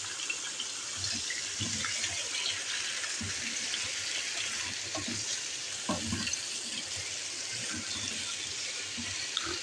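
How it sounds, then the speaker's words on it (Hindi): Sliced potato rounds frying in a pan with lightly golden onions, a steady close sizzle running throughout with occasional soft stirring knocks and scrapes. "अब आलूओं को फ्राई कर लेते हैं अच्छे तरीके से।"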